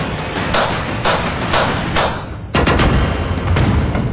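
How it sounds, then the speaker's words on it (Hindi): Bursts of gunfire during an Assam Rifles military operation, several loud broadband blasts in quick succession that give way to a dense, sustained barrage of shots close by, with no voices. "तभी अचानक फायरिंग शुरू हो गई"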